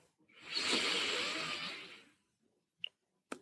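A deep breath drawn in during a guided meditation practice: one long, soft airy inhale lasting about a second and a half, close and fairly quiet, followed by two faint brief clicks.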